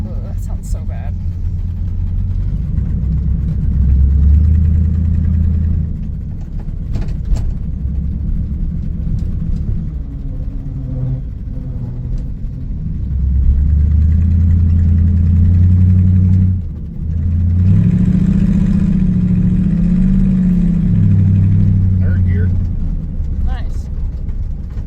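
A Ford Mustang with a shot power steering system runs in second gear, its rough mid-pitched engine drone rising and falling through two surges, with a person talking over it.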